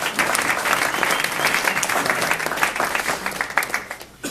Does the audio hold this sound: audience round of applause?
yes